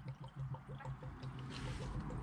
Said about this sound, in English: Bubbling up. I'm gonna let it bubble for a second.